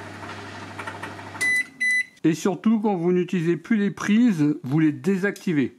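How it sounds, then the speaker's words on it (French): A microwave oven runs on a Jackery Explorer 1500 Pro portable power station, a low steady hum with a few high beeps, soon covered by a person speaking over it. "le seul bruit qu'on entend, c'est le bruit du micro-ondes."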